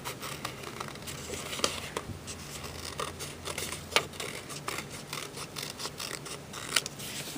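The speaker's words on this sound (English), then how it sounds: "So I'm cutting right around my snowman." Scissors snip steadily around a paper snowman cut-out, close, quiet crisp cuts with faint paper rustling, alone without talk.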